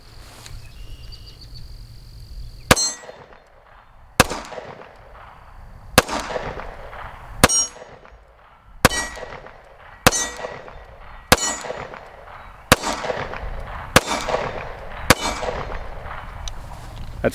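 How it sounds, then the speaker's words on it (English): Tisas 1911 DS pistol firing Remington jacketed hollow point rounds outdoors, ten sharp, loud shots spaced roughly a second apart, each with a ringing metallic decay. "That's 10 rounds of the Remington Jacketed hollow points through the Tisas 1911 DS."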